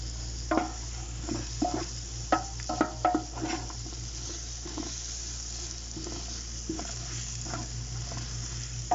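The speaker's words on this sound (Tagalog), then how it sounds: "haluin natin" Chicken biryani stirred in a pan with a spoon, giving irregular scraping clacks against the metal over a steady low sizzle, with no talking.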